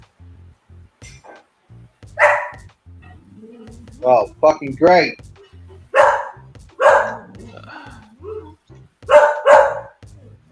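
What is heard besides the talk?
dog barking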